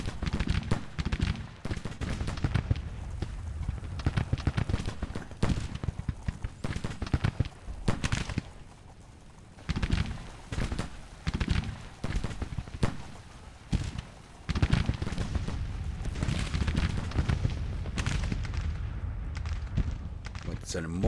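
Battle gunfire and artillery in a Civil War strategy video game, dense rapid volleys and booming shots crackling continuously with brief lulls, a voice talking over the fighting.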